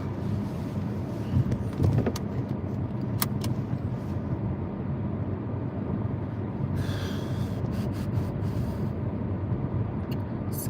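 A car cruising steadily gives a continuous low road and engine rumble from inside the cabin, with a few faint clicks and rustles near the start and no talking.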